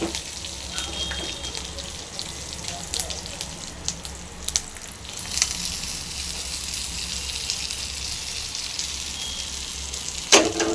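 Urad dal, cumin and mustard seeds sizzle and crackle steadily in hot oil for a chutney tempering, a continuous close frying hiss with scattered pops and no talking.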